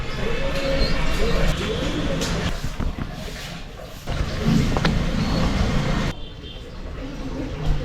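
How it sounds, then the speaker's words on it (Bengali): Pigeons, including a pair of Gilibas pigeons, cooing at a rural village pigeon market in Bangladesh. Low coos sit under busy market crowd noise and voices, with traffic rumbling in the background. "অসাধারণ সাইজের কবুতর জোড়া গিলিবাস কবুতর জোড়াটা চাচ্ছি মাত্র সাড়ে চারশো টাকা"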